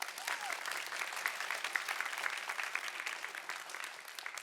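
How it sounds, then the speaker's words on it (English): Audience applause at a high school thespian induction ceremony, a lively, fairly distant crowd clapping with a few sharper individual claps standing out, sustained throughout and slowly tapering. "now we can applaud."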